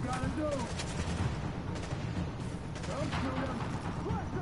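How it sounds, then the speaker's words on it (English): Grenade blasts and gunfire in The Division combat form a dense, continuous barrage of bangs and rumble, with someone talking over the chaos. "Getting bombarded with grenades now, eh?"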